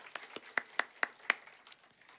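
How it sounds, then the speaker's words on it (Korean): Church congregation clapping to welcome newly registered members, heard as a handful of sharp, separate handclaps, fairly faint and spaced unevenly over two seconds, with no talking. "환영합니다. 박수하겠습니다."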